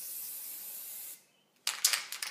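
An aerosol can spraying grey chalk paint onto wooden bunting: one long steady hiss, a short silence, then several quick sharp bursts close by.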